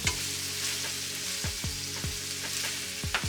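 Ground beef, sausage and green onions fry in a pan for baked beans, a close steady sizzle broken by several sharp scraping strokes of a spoon stirring, with no voices.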